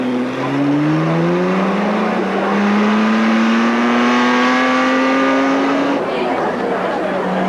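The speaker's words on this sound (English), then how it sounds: "start your engines." Car engines roar and rev at a Walt Disney World attraction, rising whining pitch sweeping upward over several seconds before cutting off, loud and close with a voice speaking underneath.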